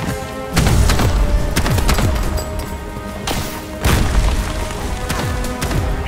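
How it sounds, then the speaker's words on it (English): Explosive barrage in the sci-fi shooter Bright Memory: Infinite: loud, heavy booms strike one after another, each with a deep rumbling tail, building into a dense, continuous bombardment with sharp crashing hits layered over it. "But this barrage is too dangerous."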